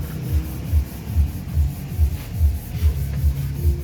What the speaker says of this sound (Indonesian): Ya habis itu udah diamplas biar rata mas